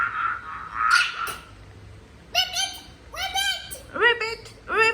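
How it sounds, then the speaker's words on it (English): A frog call played back by a Google Assistant smart speaker: a few short, bright, warbling croaks in quick bursts, fairly close and clear, with no talking. "This is a frog."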